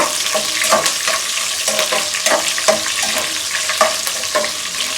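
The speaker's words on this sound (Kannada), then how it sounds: "ಕರಿಬೇವನ್ನ ಹಾಕೊಳ್ಳೋಣ ಅದಾದಮೇಲೆ ಒಣಮೆಣಸಿನ್ಕಾಯಿ ಸೊ ಅದನ್ನು ಕೂಡ ಚೆನ್ನಾಗಿ ಫ್ರೈ ಮಾಡ್ಕೊಳ್ಳೋಣ" Curry leaves and dried red chillies fry with chana dal in hot oil, a loud, dense, continuous sizzle up close with crackling bursts and stirring scrapes throughout.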